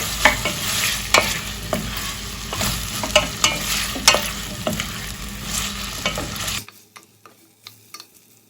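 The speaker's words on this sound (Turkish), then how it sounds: "Şöyle patatesi kavurayım." Cubed potatoes fry in a pot with a continuous close sizzle and regular stirring scrapes and knocks, then the sizzling cuts off abruptly near the end, leaving only a few faint taps.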